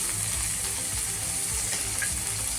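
Eggplant frying in oil gives a steady, close sizzle with broad crackling hiss, running continuously at even volume with faint scraping stir sounds and no talking.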